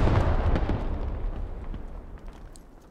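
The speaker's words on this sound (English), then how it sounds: "just keep hitting that with mortars then" A heavy mortar explosion in the video game Squad booms loud and close at the start, its deep rumble rolling off and fading over a few seconds.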